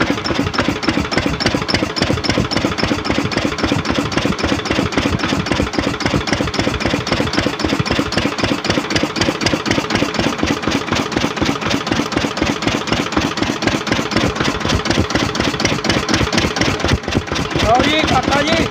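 Lister diesel engine running steadily with a rapid, even thumping beat, loud and close, its revs being adjusted while people talk over it.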